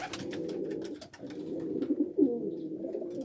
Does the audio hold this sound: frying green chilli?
no